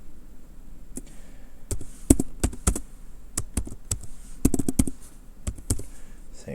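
Someone types a short name on a computer keyboard, a series of close, crisp key taps in uneven clusters, some quick runs and a few spaced single presses, with no talking.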